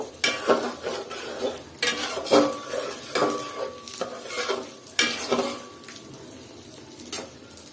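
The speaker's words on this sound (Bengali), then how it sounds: "এখন এটাকে আমি আবার একটু নেড়ে চেড়ে দিব" Washed mung dal and spices being stirred in a cooking pot, with a spoon scraping and knocking against the metal in uneven strokes and faint sizzling underneath, close up and without speech.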